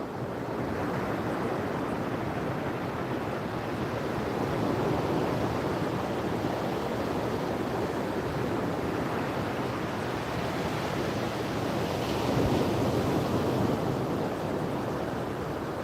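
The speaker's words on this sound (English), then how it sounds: "those waves are just really beating up the rods right now" Ocean surf crashing on a Florida beach at Amelia Island during surf fishing, a loud continuous roar of breaking waves mixed with wind buffeting the microphone.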